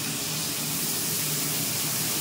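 Kashmiri chilli, dried red chilli and ground spices frying in a pan, giving a steady loud hiss and sizzle that runs unbroken throughout, with no talking.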